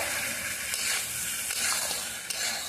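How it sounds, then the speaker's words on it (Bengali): A spoon stirs fried potatoes in a curry pan after a little water goes in, with a steady close sizzle and soft scraping strokes, no voices. "আলুটা সেদ্ধ হওয়ার জন্য একটুখানি জল দিয়ে দেবো নাড়াচাড়া করে"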